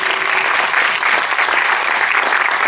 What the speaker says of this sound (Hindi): एक बार जोरदार ताली मुझे आदेश दीजिए